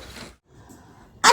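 A single sharp sneeze at home in a family kitchen, loud and close, bursting out after a quiet moment with faint breathy sounds before it.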